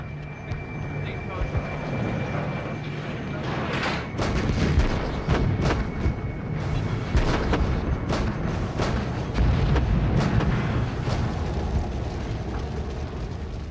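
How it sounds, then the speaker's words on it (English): Heavy artillery barrage on a city centre, evoking the Soviet shelling of Berlin in World War II: a continuous loud rumble broken by repeated booming explosion bursts, dense and close throughout. "the Russians unleashed the greatest artillery barrage in history on a city center"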